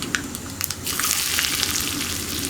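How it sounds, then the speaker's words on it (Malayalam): Round-cut onions drop into hot coconut oil already holding mustard seeds and fenugreek for pulissery. A few light clicks give way to a loud, continuous close-up sizzle. "പിന്നെ നമ്മൾ ചേർക്കുന്നത് ഉള്ളിയാണ്."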